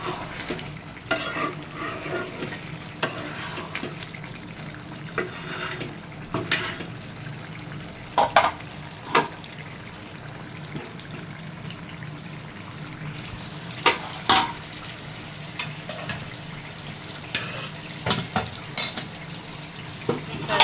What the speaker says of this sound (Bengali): ভালো করে নাড়া দিতে হবে, একটু ঘন ঘন, যাতে তলায় লেগে না যায়।